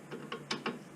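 Ratchet wrench clicking as caliper bolts are snugged down on a Honda car during a brake job, a few short bursts of close metallic clicks with brief pauses between them.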